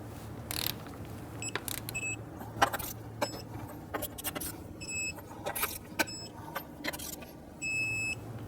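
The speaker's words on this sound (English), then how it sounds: "Now we want to go ahead and torque down our lug nuts to 100 foot-pounds." Lug nuts are torqued down on a Jeep Grand Cherokee wheel, heard as scattered metallic clicks and clanks from the wrench, close but fairly quiet, mixed with faint beeps and background garage noise.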